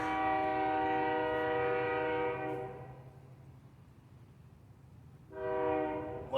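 A passing train sounds its horn in a long, loud, steady blast that stops partway through. A low rumble continues in the gap, and then a second horn blast comes from outside a garden.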